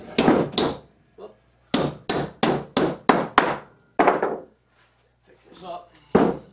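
Sharp hammer blows strike nails into a wooden beehive ventilation box, a quick run of evenly spaced whacks, then a pause and one final loud strike.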